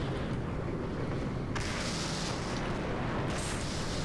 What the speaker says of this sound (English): I think you've been killed by my ammo explosion.